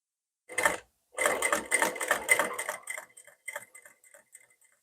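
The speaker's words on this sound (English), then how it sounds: "start stitching, giving in half an inch stitch from the edge" Sewing machine stitching the front of a katori blouse, a close run of quick mechanical ticks and thumps that starts with a short burst, then slows and fades into sparse taps.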